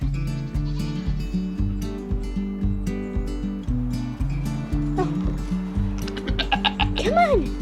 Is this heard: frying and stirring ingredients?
no